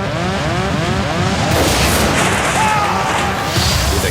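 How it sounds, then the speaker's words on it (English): An aircraft windscreen blows out in an explosion at altitude, a loud broadband burst followed by roaring rushing wind and rattling, dense and continuous throughout. "With a huge explosion, the captain's windscreen blows out into the sky."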